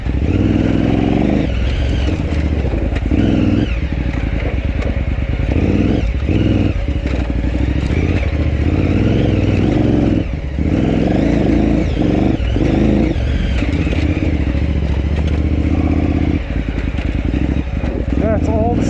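A KTM Adventure motorcycle rides off-road at the 2019 KTM Adventure Rally, its engine droning continuously with rattling clatter and surges of throttle, while a voice talks over it.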